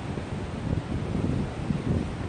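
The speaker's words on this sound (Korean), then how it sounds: "지금 바람이 너무 많이 부니까" Strong wind gusting across the open microphone at a seaside villa during a storm, a continuous low rumbling buffet that swells and dips in waves over the whole stretch, with no speech.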